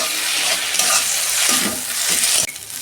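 Tomatoes with green chillies and ginger-garlic paste fry in a pan, a steady close sizzle broken by scraping stirs of a spatula, with a sharp clack near the end.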